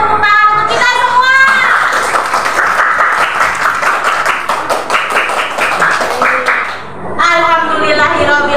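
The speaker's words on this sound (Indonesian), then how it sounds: "Kita beri tepuk tangan untuk kita semua." Classroom participants clap in unison, with rapid rhythmic bursts of hand claps that fill the middle of the clip. Voices are heard before and after the clapping.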